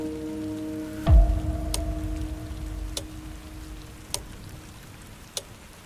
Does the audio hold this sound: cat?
no